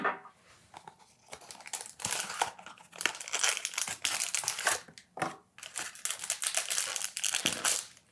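Skincare serum packaging crinkles and crushes as it is opened, a run of loud, dense crackling bursts with short pauses in between, close and continuous, with no talking.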